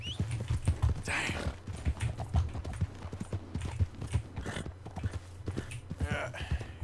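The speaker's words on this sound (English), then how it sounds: "That horse don't listen." Horse hoofbeats in the Red Dead Redemption II video game, a rapid rhythmic clip-clop of a trotting horse, close and continuous, with a breathy snort or two and some voices under it.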